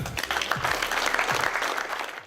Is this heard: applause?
yes